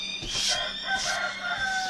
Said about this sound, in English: there goes my chicken. My rooster.